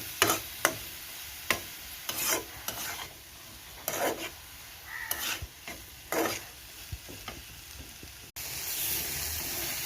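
Crushed pointed gourd (potol) being stir-fried in a pan, quiet scraping and stirring strokes at an irregular pace over a soft sizzle, ending in a louder burst of hiss.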